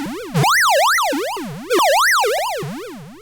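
Two rising-and-falling 8-bit electronic chirps repeat in a warbling zigzag, buzzy and retro like Pac-Man's death sound, loud and alone.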